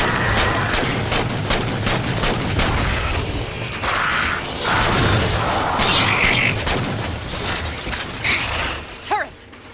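Rapid turret gunfire in the sci-fi shooter Halo, loud and sustained bursts with mechanical clatter and booms, continuing for several seconds before easing off near the end.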